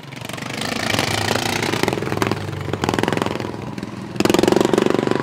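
A racing lawn mower engine revs hard around a dirt track during a heat race, giving a loud, rough, rattling buzz that rises and falls with throttle changes and surges louder near the end.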